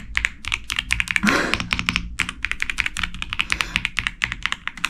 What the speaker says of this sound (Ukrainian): Ця клавіатура має бути, яка дуже прикольно клацає кнопочки.